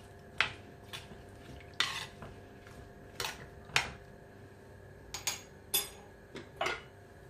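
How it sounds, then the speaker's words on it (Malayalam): Yam curry being stirred in a pot, a spoon scraping and knocking against the metal in sharp, spaced strokes over a quiet background, close and fairly faint. "ഇളക്കി കൊടുക്കാം."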